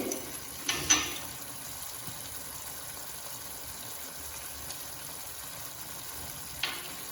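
Prawn malai curry masala with garam masala frying in oil in a pan, a soft steady sizzle heard close and fairly quiet, broken by a few brief louder clinks or spatters near the start and end.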